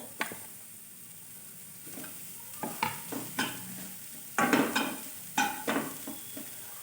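Cauliflower frying in oil in a pan, with repeated scraping stirs and clinks of a spatula against the pan over a soft sizzle, no voices.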